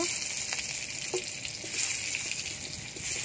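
Eggplant fries in oil in a pan with a bright, steady hiss of sizzling throughout, close and unbroken, with faint stirring sounds.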